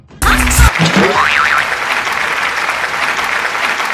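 Loud applause bursts out from a birthday party crowd as the birthday girl is invited onto the stage, steady clapping sustained to the end with a brief cartoonish boing effect near the start.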